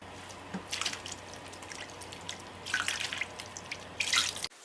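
Aged kimchi rinsed clean under a running kitchen tap, with splashing, dripping water and wet rubbing in short bursts, close and moderately quiet, and no talking.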